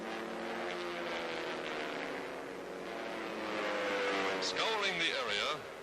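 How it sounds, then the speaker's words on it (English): Propeller-driven WWII fighter planes of 1942 take off from an airfield, a dense steady engine roar with rising and falling pitch sweeps as an aircraft passes near toward the end, under newsreel narration. "From nearby airdromes, United Nations pilots take to the sky in fast fighting pursuit ships"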